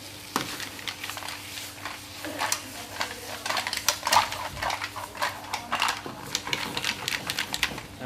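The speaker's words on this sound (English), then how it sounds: "we're going to add now the mussels into the sauce, and we're going to finish off this dish" Mussels are tipped into a pan of sauce for a Neapolitan dish, giving a busy run of hard shell clicks and clatters against the pan over a low sizzling hiss, close and fairly loud throughout.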